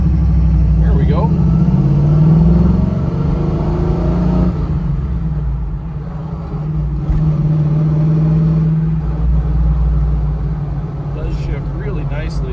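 A 1978 Pontiac Trans Am Firebird with a T-10 four-speed manual pulls up through the gears, its mid-pitched engine note rising and easing between shifts, steady and close inside the car while a person talks over it.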